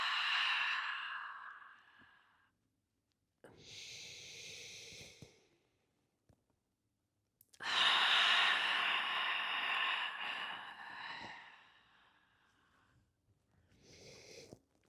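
Deep, slow breathing during an abdominal mat exercise: long, close breathy exhales and inhales separated by silent pauses, with a soft voice barely present.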